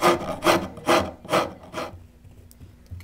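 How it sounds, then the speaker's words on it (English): A wood rasp files a joint in a handmade log art frame, giving five close, rhythmic rasping strokes in quick succession before the scraping stops and the room goes quiet. "you can just use a file or a wood rasp, and you can do your micro adjustment"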